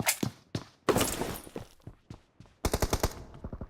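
Shotgun blasts in a video game, several loud close reports with sharp onsets, then a fast burst of rhythmic shots near the end, with no talk.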